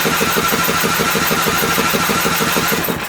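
A Craftsman rear-engine riding tractor cranks over steadily during a compression test, its starter churning out a fast, even rhythm of mechanical pulses that holds loud and close for about three seconds before easing off at the end.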